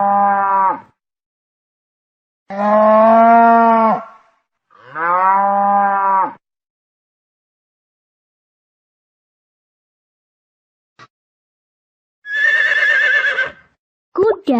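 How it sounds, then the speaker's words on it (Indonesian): Three deep, drawn-out water buffalo lowing calls spaced apart, a long quiet gap, then a shrill, quavering horse whinny near the end. "Kuda."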